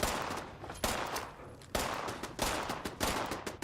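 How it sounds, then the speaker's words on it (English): Gunfire in a Grand Theft Auto video game, four or five sharp loud bursts of shots spaced under a second apart, each decaying quickly, heard alone without speech. "Gunfire outside, so that's a good sign."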